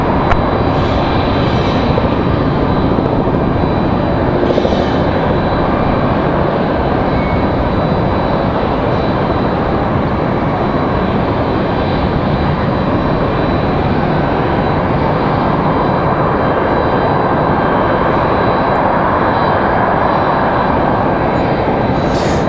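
A jet airliner departing from runway 23 right at Raleigh-Durham International Airport, a loud, steady broadband engine roar sustained throughout, with no voices over it.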